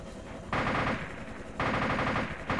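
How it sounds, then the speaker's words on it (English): Ground gunfire in the video game DayZ, with two long bursts of rapid automatic fire, each lasting about half a second to a second, and a third burst starting at the end, sounding fairly close. "Taking ground fire."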